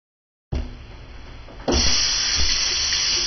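Running water rinses hair, starting abruptly as a steady hiss and growing louder and fuller partway through as the stream hits the head, continuing close by without any voices.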